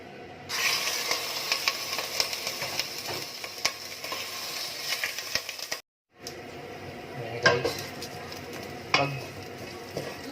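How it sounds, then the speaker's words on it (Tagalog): Meat sautéing in a pan for ginisang mongo, a steady sizzle broken by the scrape and clink of a utensil stirring, with a brief gap partway through before the frying resumes, close and fairly loud with no talking. "mag-gisa na tayo ng karne"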